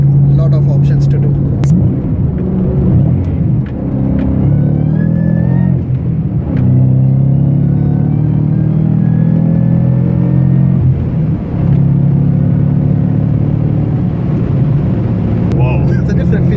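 A supercharged 2014 Ford Mustang Shelby GT500 engine drones loudly and steadily up close, with a deep, sustained rumble and slight swells as it revs, while people talk over it.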